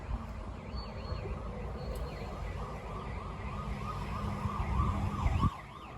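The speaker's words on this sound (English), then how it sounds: "Oh, the ambulance." An old ambulance at a street event sounds its wailing siren, rising and falling repeatedly at a moderate distance, over traffic and crowd noise, before it cuts off near the end.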